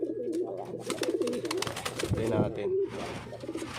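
Pet pigeons or doves coo softly in a steady low warble, close by, while someone speaks briefly over them.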